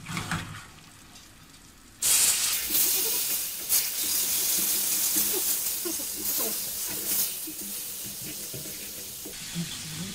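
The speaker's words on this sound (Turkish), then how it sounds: "azar azar suyumuzu ekleyeceğiz" Water is poured bit by bit into cornmeal in a hot pan for kuymak, setting off a sudden loud hiss of steam and sizzling after two quiet seconds that carries on strongly, swelling with each new splash.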